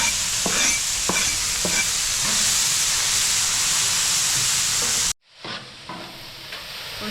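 Onions, peppers and other vegetables sizzle loudly on a hot grill, with a steady hissing fry and several scraping stirs from a utensil. The sound cuts out abruptly, then resumes as a quieter, softer sizzle.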